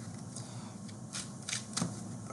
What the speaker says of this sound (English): Shuffle, shuffle, shuffle, cut.